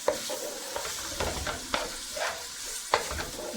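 Vegetables frying in oil for vegetable pulao, a steady close sizzle broken by a few sharp scrapes and clacks of a spoon stirring through the pan, with no voices.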